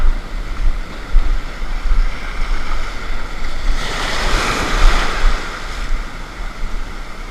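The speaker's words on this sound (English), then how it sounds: "There goes one of the many party boats that prowl New Jersey's waters." A party fishing boat passes off the New Jersey surf, its motor rising and fading over the steady wash of breaking waves and some wind buffeting.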